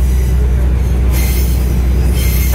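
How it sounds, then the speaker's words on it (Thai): A suburban commuter train rolls into Hua Takhe station in Thailand, a loud, steady low rumble of wheels on rail with a brighter hiss of squeal rising midway through, close by and continuous without talk. "อันนี้ก็เข้ามาทางขาล่องนะครับเข้าจอดสถานีหัวตะเข้นะ"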